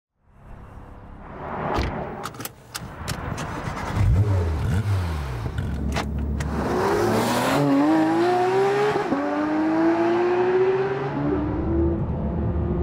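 A Porsche GT3 RS sports car engine revs hard and screams through rising gears, with sharp pops early on, loud and close, accelerating steadily.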